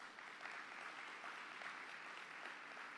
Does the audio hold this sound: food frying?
no